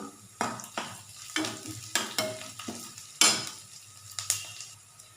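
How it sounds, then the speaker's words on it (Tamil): Mustard seeds, urad dal, chana dal and a chopped large onion frying in oil for tempering, stirred in several distinct scraping strokes against the pan over a low sizzle. "கடுகு உளுத்தம் பருப்பு போட்டு கடலை பருப்பு போட்டு ஒரு ஒரு பெரிய வெங்காயம் வந்து கட் பண்ணி போட்டிருக்கேன்"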